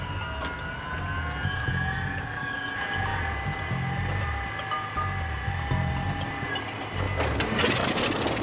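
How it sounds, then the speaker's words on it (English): A World War II-era aircraft engine cranks and tries to start from cold, a steady rough chugging drone with sputtering pulses, loud and close, ending in a burst of harsher noise. "As with many World War II-era aircraft, starting the engine cold is a haphazard and messy affair."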